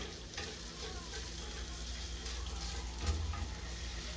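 Chopped beef sizzles steadily in a hot pan as it is tossed and stirred, a continuous close frying hiss with occasional scraping and clattering.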